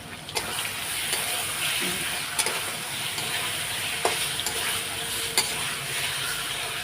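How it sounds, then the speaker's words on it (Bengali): Paneer and green peas are stir-fried in oil in a pan: a loud, close, steady sizzle broken every second or so by sharp spatula scrapes against the pan. "এই যে মটরশুঁটিটাও এখন দিয়ে দেবো এখন কষিয়ে নিই"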